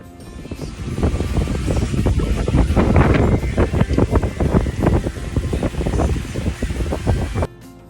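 Strong wind buffets the microphone on a Florida beach, roaring steadily with gusting surges over a low wash of surf, then dropping away abruptly just before the end.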